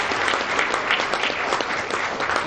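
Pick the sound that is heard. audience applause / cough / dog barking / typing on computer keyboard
audience applause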